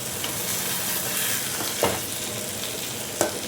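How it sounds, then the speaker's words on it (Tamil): Beaten eggs sizzle and fry in a pan with kovakkai (ivy gourd) poriyal, a steady crackling hiss with two brief scraping stirs of a spatula, close and alone without talk. "அப்படியே அந்த மஞ்சள் கருவெல்லாம் ரொம்பலாம் உடையாமல் அப்படியே கிளறி விடணும்."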